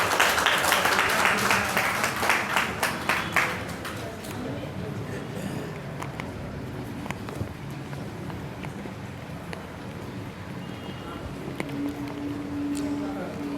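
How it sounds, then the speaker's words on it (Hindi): Loud applause welcomes the chairman at a Hindi literary society's third annual celebration, a dense burst for about three seconds that quickly thins into a low crowd murmur with some scattered sounds. "जोरदार तालियों के साथ में हमारे अध्यक्ष महोदय का स्वागत करें"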